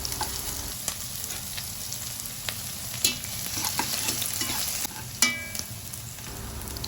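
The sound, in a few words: sautéing chopped ginger and garlic until golden brown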